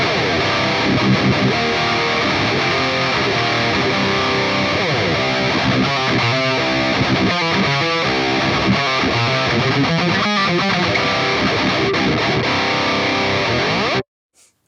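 Double-tracked metal/djent rhythm guitar through a Line 6 Helix using the Archetype Lead amp model, heavily distorted and dense with chugging palm-muted stops and gaps, loud and continuous before cutting off abruptly.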